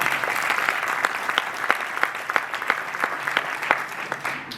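A conference audience applauds, with dense, sustained clapping running steadily for several seconds. A few sharper individual claps stand out from the crowd.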